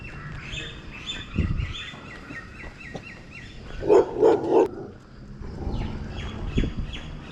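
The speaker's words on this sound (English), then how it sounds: "These dogs are very, very dangerous in the morning." Dogs bark outdoors in the morning: a short burst of three loud, close barks in quick succession, then scattered softer barks, with birds chirping steadily in the background.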